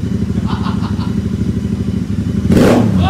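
A Royal Enfield Interceptor's exhaust idles with a steady, throbbing rumble, then bursts into one loud, sharp rev near the end.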